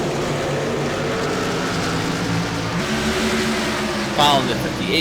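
Race truck engines drone continuously at Martinsville, a loud steady roar of several vehicles circling with a slight pitch shift near the end, and a commentator talks over it.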